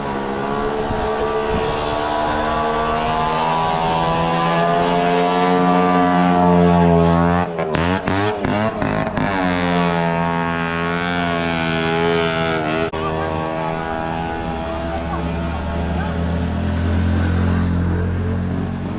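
A two-wheeler ridden into 2024 flood water gives off a loud, close engine drone that climbs and dips in pitch, broken by a short choppy stretch midway before settling into a steady rumble.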